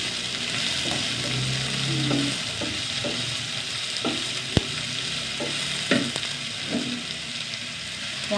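Parotta frying in a hot pan, a steady loud sizzle throughout with scraping and clinking of a utensil stirring and pressing at intervals, no talking.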